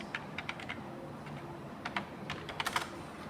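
Irregular clicks of a computer keyboard as keys are tapped in bursts, including Enter presses in Tally ERP 9, light and close in a quiet room.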